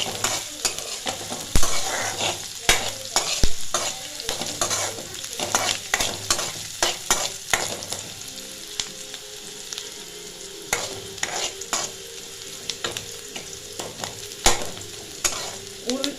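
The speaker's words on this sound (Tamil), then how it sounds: "வெங்காயம் நல்லா வதங்கட்டும்." Onions sautéing in oil in a pan for a potato masala fry, a continuous close sizzle broken by frequent sharp spatula scrapes and clinks against the pan, with no talk.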